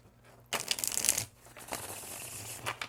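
Linen cardstock tarot cards shuffled close up: a quick riffling burst followed by softer rustling and sliding of the deck, fairly quiet and alone.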